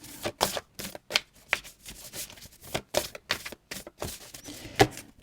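A tarot deck is cut and handled up close, producing a quick irregular series of crisp card snaps and riffling flicks, with no one talking.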